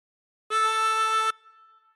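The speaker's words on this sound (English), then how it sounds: "And breathe in through three and bend the note to produce A" One harmonica note drawn on hole three and bent down to A, a reedy tone held for nearly a second, close and solo, ending with a soft fading tail.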